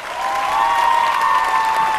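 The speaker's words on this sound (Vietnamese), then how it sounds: "một tràng pháo tay thật đặc biệt cho cả bốn bạn ở đây" Steady, full applause from a television singing competition audience for four performers, the clapping swelling slightly and holding strong throughout, with a tonal hum from music beneath.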